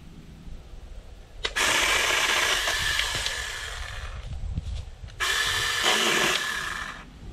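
Two loud bursts of a Greenworks 40V cordless pole saw whining as it bites through tree limbs, each lasting a couple of seconds, with quieter rustling between.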